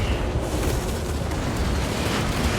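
Missiles explode in a Total War: Warhammer battle, heard as a dense, continuous rumble of blasts and booms that stays loud and unbroken for the whole stretch, with no talking.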